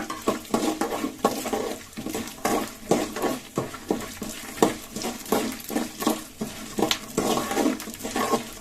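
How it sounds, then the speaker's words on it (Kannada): Spices roast in a pan over a medium flame for Kannada-style lemon rice, a busy stream of scraping stirs and light crackling with regular clinks of a spoon against the pan, close and without talk. "ಮೀಡಿಯಂ ಫ್ಲೇಮಲ್ಲಿ ಉರಿ ಇಟ್ಕೊಂಡು ಕೆಂಪು ಕಲರ್ ಬರೋ ರೀತಿ ಹುರ್ಕೊಳ್ಳೋಣ"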